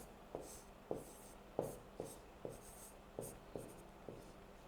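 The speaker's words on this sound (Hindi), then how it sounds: "तो यहीं पे लिखेंगे एक चीज़ नोट में" A pen writing a note, with a series of soft, evenly spaced strokes and taps on paper, close but quiet, about eight in a steady rhythm.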